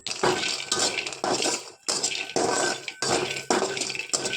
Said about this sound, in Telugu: గ్యాస్ వెలిగించి గ్యాస్ పైన ప్యాన్ పెట్టి వేరుశనగ పప్పుని వేసి వేగించుకోవాలి